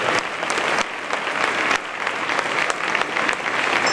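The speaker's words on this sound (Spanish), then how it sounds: "Un aplauso para él, para José Cepas," Dense, continuous applause from a concert audience at a Santa Cecilia band contest, a sustained tribute to a late musician, with steady clapping and no pauses.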